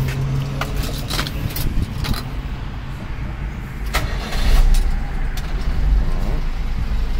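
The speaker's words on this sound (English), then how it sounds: "Let me go ahead and start it just so y'all believe that it starts." A Subaru Sambar kei truck engine cranks and catches, settling into a steady idle with a low mechanical hum; someone talks over it at the start.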